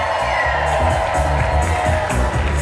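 A crowd cheers and whoops at a New Year's Eve celebration at The Montage, Palmetto Bluff, a steady dense roar of voices that stays loud and unbroken throughout.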